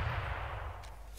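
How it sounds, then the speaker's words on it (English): Rocket launcher firing in the browser shooter Krunker.io: a loud, booming low blast opens the clip, then a rumbling explosive tail lingers steadily to the end, with no voices. "if I start to fire now, you'll hear the explosion that sounds when you fire from a rocket launcher"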